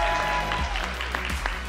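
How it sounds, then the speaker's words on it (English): A brief burst of audience applause at a women's recognition event, dense clapping over a faint steady background tone, lasting under two seconds. "Round of applause for that."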